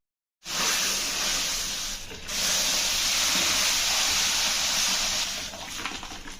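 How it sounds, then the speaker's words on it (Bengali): Raw mango dal poured into hot mustard-seed tempering, a sudden loud rushing sizzle that bursts in, dips briefly, then carries on strong for several seconds before easing off slightly. "সর্ষেগুলো ফুটে ওঠার সাথে সাথেই ডাল ঢেলে দিতে হবে।"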